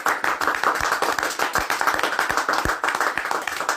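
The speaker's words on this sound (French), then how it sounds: "Acclamons pour la gloire de Jésus." A church congregation claps together in steady rhythmic unison, loud, sharp and close, with no talk over it.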